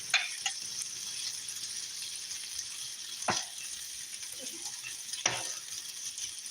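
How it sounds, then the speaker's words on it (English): Sausages sizzling softly in a pan, a faint steady crackle with a few louder scraping stirs breaking through at intervals. "I'm hearing them sizzling just a little bit."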